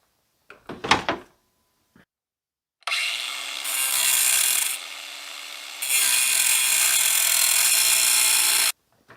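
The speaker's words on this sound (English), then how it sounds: "Just cut a slot in the top of that screw." A power cutting tool grinds a slot into the top of a rusted Torx screw on a Jeep Cherokee XJ during a radiator replacement, with two loud sustained bursts of abrasive cutting separated by a short pause, after a few brief clanks.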